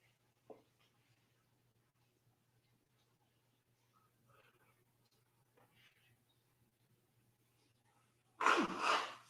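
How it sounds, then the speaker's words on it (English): A single sharp, loud sneeze bursts out near the end after a mostly quiet stretch with faint rustles and a steady low hum. "I'm going to sneeze again."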